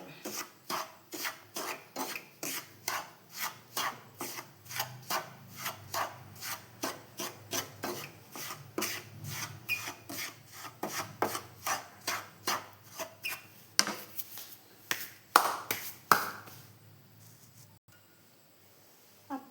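Semolina and ghee for rava ladoo are stirred in a pan with a regular series of scraping, rasping strokes, close and clear, slowing into a few louder scrapes before stopping near the end.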